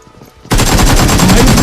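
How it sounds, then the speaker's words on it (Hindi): Sudden burst of rapid automatic gunfire from a PUBG Mobile match, loud and close, breaking in after a quiet moment and hammering on steadily. "अब इसके टीममेट्स राइट से पूरा कवर फायर दे रहे हैं"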